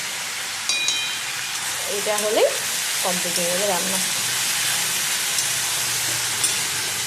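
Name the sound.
potato and bitter gourd frying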